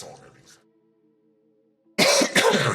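Harsh, loud coughing bursts, two close together, following a short tonal sound and near silence, close to the microphone.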